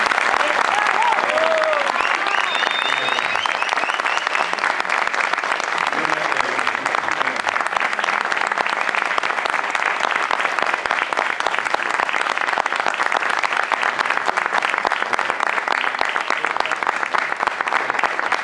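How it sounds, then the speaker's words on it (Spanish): Long, steady audience applause sends off an interviewee named Tatín, dense clapping holding at an even level for over eighteen seconds, with a brief voice near the start. "Así que la vamos a despedir a Tatín con el aplauso"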